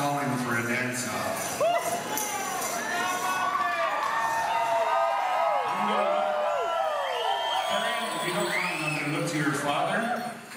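A crowd at the Grass Special Shelton '17 event shouts and cheers, calling for a dance-off: a steady mass of lively voices and whoops, moderately close, with people talking over it.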